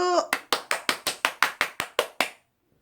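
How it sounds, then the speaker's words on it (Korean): A run of about eleven sharp hand claps in a steady, even rhythm, fairly close and loud, then silence. "그런 의미에서 이정래 선생님한테 박수!"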